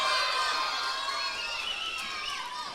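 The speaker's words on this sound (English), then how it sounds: "This crowd is fired up for Mr. Wobble" A wrestling crowd at a live pro show in Healdton, Oklahoma, cheering and shouting for Mr. Wobble, a steady roar of many voices heard from within the venue.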